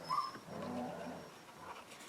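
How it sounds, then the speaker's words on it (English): Dogs playing indoors give faint whimpers and soft whines, a brief higher yelp at the start followed by low, muffled, continuous sounds at a distance, fairly quiet with no speech. "My dogs are playing."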